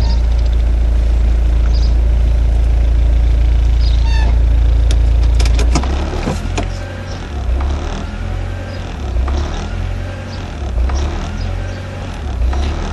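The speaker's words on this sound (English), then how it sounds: "And there's the idle lope." A 1992 Honda Prelude with a swapped JDM H22A VTEC engine idles loudly and close up, a dense steady drone that steps down partway through into a lower, uneven lope as the idle surges.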